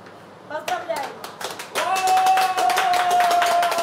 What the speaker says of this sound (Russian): Весь ресторан Европа вам аплодирует, Роман, вы молодец.